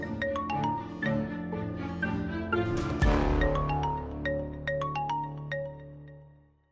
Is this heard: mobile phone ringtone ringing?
yes